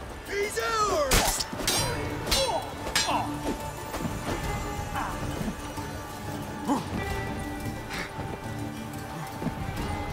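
Horse hooves clip-clop steadily in The Witcher 3, a rhythmic trotting beat close by, mixed with sharp crashes, clinks of combat and occasional whinnies.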